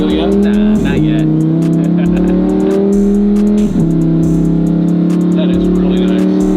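A Lamborghini Huracan engine drones loudly from inside the cabin, heard from the passenger seat, revving with gear shifts as it accelerates hard, while people talk over it.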